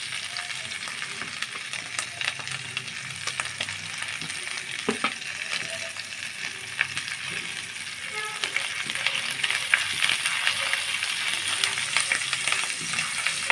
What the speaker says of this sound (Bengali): এই মশলাটা আমি তেলের মধ্যে ভালোভাবে কষিয়ে নেব।